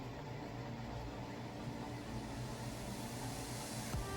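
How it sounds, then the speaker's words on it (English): Steady broadband air-conditioner hum fills the space, a constant low drone with hiss, unchanging throughout and no voices. "Excuse the noise in the background, that's the AC."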